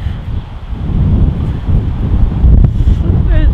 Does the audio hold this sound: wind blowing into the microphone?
yes